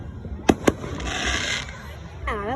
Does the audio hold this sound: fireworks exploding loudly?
yes